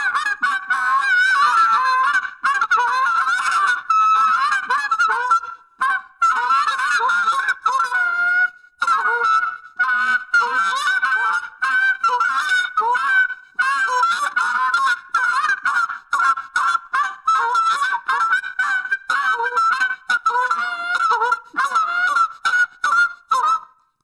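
Loud, rapid honking from a tube goose call, a nasal run of clucks and honks imitating a flock of geese, close and continuous.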